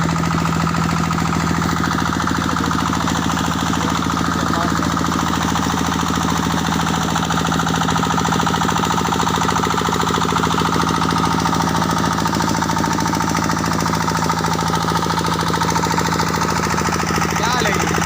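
A village tubewell engine runs in a loud, unbroken pulse, a steady mechanical thumping close by. It carries on through the whole clip while people talk over it.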